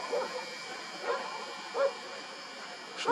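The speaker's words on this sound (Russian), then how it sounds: "собачки, совсем разошлись" Dogs barking outdoors in winter, about four distant yapping barks spaced irregularly over a steady hiss of background noise.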